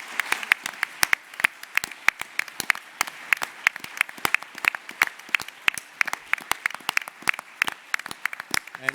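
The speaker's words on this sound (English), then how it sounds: "I would ask you to join me in a round of applause for Jakob Liermann and Natascha Lenz" A sparse round of applause from a small audience at an ECB economics conference, individual claps sharp and distinct in an irregular patter over a quiet room, lasting about nine seconds.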